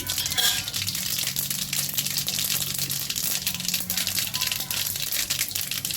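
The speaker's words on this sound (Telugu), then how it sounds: "ఆయిల్ ఇంటికిన తర్వాత పోపు దినుసులు వేసుకోవాలండి" Tempering spices dropped into hot oil for a broad bean fry, crackling and popping in a dense, steady sizzle heard up close throughout, with a louder burst at the start.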